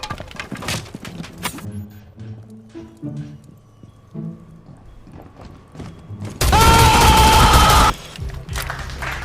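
Pistol shots crack in a first-person shooter video game, several quick spaced pops early on, then a loud sustained burst of rapid fire near the end, close and punchy.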